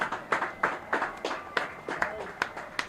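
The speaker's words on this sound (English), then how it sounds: "how about one other round of applause for your class of 2022 Athletic Hall of Fame" Crowd applause for Hall of Fame inductees at a high school football game, a moderate spread of claps with distinct hand strikes rising above a softer background.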